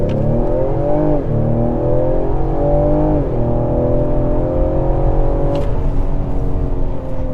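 A 2022 Ford Explorer ST in sport mode accelerates hard from 0 to 60, its engine loud and close as it revs up through several rising sweeps, with brief dips at each gear change.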